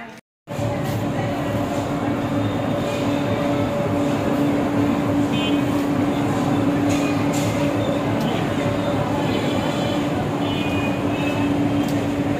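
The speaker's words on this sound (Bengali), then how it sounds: "তো এখন রাতের বেলা একটা ট্রেন আসতেছে" A long train runs past at night at Santahar Junction, a loud steady rumble of wheels on track with a sustained tonal hum and faint clanks, continuous after a brief silence at the start.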